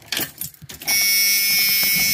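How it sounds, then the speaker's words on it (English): Car key turned in the ignition, a few quiet rattles and clicks before the car powers up and a steady, loud electronic warning chime-tone begins and holds to the end. "Throw the key in the ignition and see what happens here."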